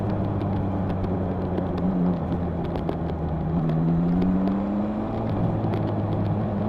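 Honda CB1000R Black Edition motorcycle riding in traffic, a steady low engine drone with exhaust tone that sweeps up and down as the revs shift, close and continuous, with no talking.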